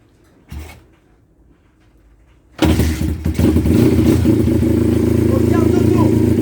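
A cold dirt bike engine is started with the choke on: a brief quiet attempt, then it fires and settles into a loud, steady, throbbing run close by.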